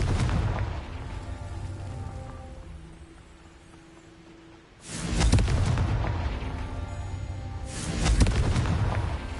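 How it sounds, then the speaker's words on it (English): Two heavy booming fire-blast explosions from the Confringo spell in the video game Hogwarts Legacy, each a sharp broadband burst trailing into a long rumble, with quieter game ambience between them. "Confringo."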